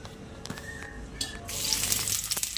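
Garlic hits hot oil in a pan, a quiet background crackle that swells into a brighter, louder sizzle after a couple of soft clatters, close and brief.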